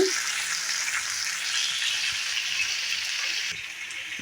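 Tomato bean curry seasoned with salt and turmeric sizzles loudly and steadily in the pan close by, with faint stirring knocks underneath, dropping slightly in level near the end.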